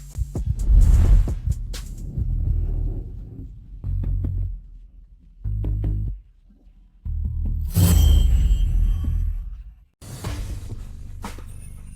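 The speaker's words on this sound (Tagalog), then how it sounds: "Ang bilis ng tibok ng puso mo." A fast heartbeat sound effect plays in a Filipino romance audio drama: heavy low thumps come in bursts, separated by short silences, and a brighter swell rises near the end. No one speaks.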